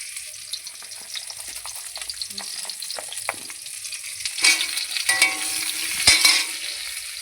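Potol, pointed gourd, frying in a wok on a gas stove: a soft continuous sizzle with light stirring clicks that grows louder and busier toward the end, no talking.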